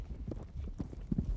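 Soft, muffled hoofbeats thud in an uneven rhythm as a horse is ridden over jumps, faint and somewhat distant, with no talk over them.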